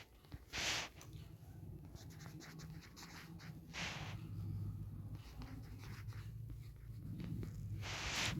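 Pen scratching across paper as notes are written out for a practice problem, a steady soft scribbling that runs almost throughout, close and fairly faint, with a few brief louder rustles and no talk.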